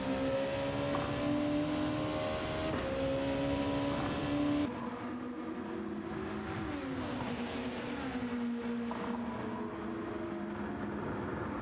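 Race car engines from Gran Turismo 7 at Suzuka whine at high pitch throughout, shifting up and down through gears as the cars corner, with a steady, fairly quiet game mix and no voices.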